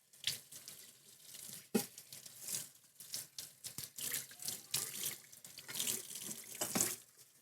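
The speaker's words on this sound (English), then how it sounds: "I'm gonna go rinse everything off" Running sink tap pours over utensils being rinsed after making pork gyoza, with uneven splashes and clatter swelling and fading, fairly close and steady with no voices.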